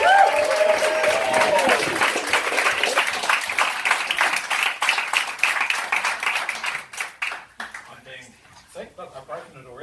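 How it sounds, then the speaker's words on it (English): A bar crowd at a stand-up comedy night in Dunedin claps loudly, with dense clapping that thins into scattered claps and fades near the end, while voices talk and cheer over it. "so let's get some applause going"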